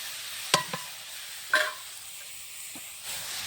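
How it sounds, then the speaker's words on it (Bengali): Potatoes and then fish go into hot oil in a pan for a Bangladeshi fish and potato curry, giving a faint steady sizzle with two sharp clinks of a utensil early on. "আমি এখন আলুগুলা পরে দিলাম বিসমিল্লা উল্টো মাছগুলো দিলাম"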